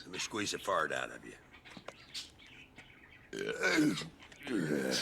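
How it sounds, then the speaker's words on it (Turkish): A character in GTA Vice City Stories lets out a loud, drawn-out belch, then a second burp follows after a pause, close and dry, with game dialogue in the gaps. "TF2'deki Demoman gibi geğirip duruyor."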